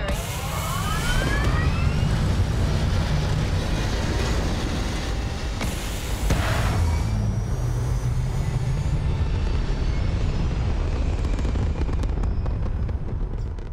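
Spaceship thrusters firing in Starfield, a loud, steady engine roar with deep rumble that holds for the whole stretch, with a brief surge partway through and no voices.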